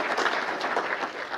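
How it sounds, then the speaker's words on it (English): Brief burst of crowd applause at a city employee recognition awards event for two retiring staff members, a short, even patter of many hands clapping with no talking. "So let's have a round of applause for those two."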